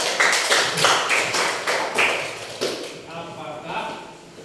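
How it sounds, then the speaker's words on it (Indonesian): Brief classroom applause: a short run of distinct, fairly close hand claps in loose rhythm that thins out and fades toward the end. "Oke, tepuk tangan dulu."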